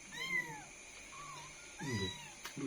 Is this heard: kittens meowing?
yes